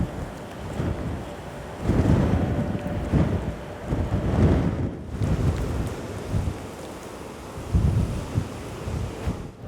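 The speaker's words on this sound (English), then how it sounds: "we're going to have a look now down at the views on this very windy," Strong wind buffets the microphone on a wet, blustery day at a castle, roaring in heavy gusts that swell and fade over several seconds, with no voices.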